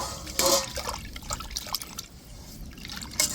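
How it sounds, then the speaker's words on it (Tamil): Dissolved tamarind water pouring into a pan for a fish curry, a steady wet trickle and splashing with a few louder sloshes, close up and without talk. "இப்போ கரைச்சி வச்ச புளியை சேர்த்துக்கிடுவோம்"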